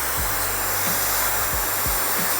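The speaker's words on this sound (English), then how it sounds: "if he wants to style it backward like this, I'm gonna blow dry it backward." Hair dryer blowing steadily and loudly throughout while slicked-back hair on a skin fade is blow-dried backward, with brief low thumps from the nozzle moving through the hair.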